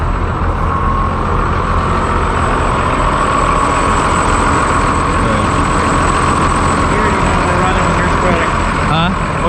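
A tractor with four-wheel drive and traction control runs steadily during road work, a loud continuous engine drone with no change in pitch, heard from close by.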